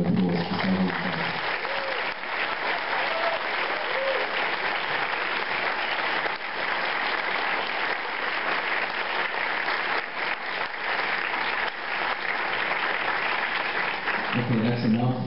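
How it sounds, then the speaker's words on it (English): Sustained audience applause at a film festival award ceremony, a dense, steady wash of clapping filling the hall for about fifteen seconds, loud and continuous with a brief voice at the very start and end. "give them a huge round of applause"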